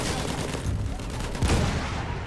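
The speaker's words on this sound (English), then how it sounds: "I think that's a tank counter shooting me from just like really far away" Gunfire from a tank hunter far away on a battlefield, heard from a mortar landship: steady rumbling volleys with a sharper burst midway, heavy and continuous, with faint voices underneath.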